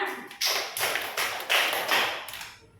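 A group of people, likely schoolchildren in a classroom, claps together five times in an even rhythm, each clap crisp and close, fading away after the last.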